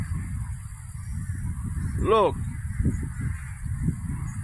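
Geese honk from a large flock outdoors, one loud call standing out near the middle over a steady background of bird noise, with a person speaking briefly nearby.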